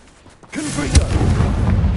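A Confringo spell blast explodes in the Hogwarts Legacy video game: a sudden deep boom bursts in after a brief quiet and rolls on as a loud, rumbling roar for the rest of the moment.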